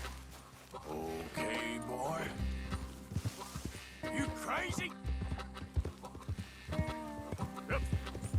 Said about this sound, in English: Come on, horse. Let's go.